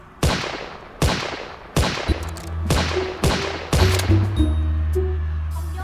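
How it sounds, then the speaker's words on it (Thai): Five sharp gunshots from a Roblox zombie game, the Field Trip Z map, crack out at roughly even intervals, each followed by a short decay, while a low game hum swells underneath toward the end. "อุ้ยยิงได้จริงๆด้วย"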